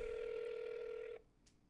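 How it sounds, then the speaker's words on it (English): A telephone tone sounds steadily while a call is placed, then cuts off abruptly and leaves a brief, faint beep. "Let me get him on the phone right now."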